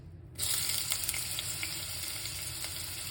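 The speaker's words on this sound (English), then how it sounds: "That oil is very hot. But let's put this in it." Food dropped into very hot oil in a pan bursts into a loud, crackling sizzle after a brief quiet moment, then keeps spitting and popping steadily, close and without talk.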